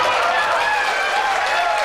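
A crowd at a political event applauding, a steady wash of clapping and cheering heard close and loud throughout, with a faint voice mixed in.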